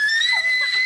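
Excited screaming from a woman in a TV sitcom scene fills the clip: a sustained, piercing, high-pitched shriek lasting about a second, loud and up close with no talk over it.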